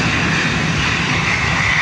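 A twenty-year-old Ryanair Airbus A320 at Dublin Airport gives off a steady, loud jet roar with a broad hiss, unbroken through the moment and with no voices over it.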